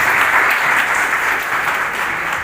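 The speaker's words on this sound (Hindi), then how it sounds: "मैं डायस पर आमंत्रित करना चाहूंगा डीसीपी साहब श्री अमित काले सर, डीसीपी जोन से जोरदार तालियों से स्वागत करते हुए सर का" A hall full of people claps steadily and loudly to welcome a police DCP to the dais at a Nayanagar police peace committee meeting; unbroken applause with no voices.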